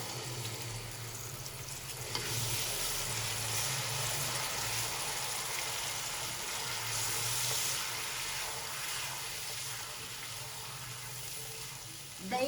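Steady sizzling and bubbling from a hot pot of sabzi pulao on a low flame as yogurt is added, a continuous moderate hiss holding for over ten seconds, with faint talk underneath.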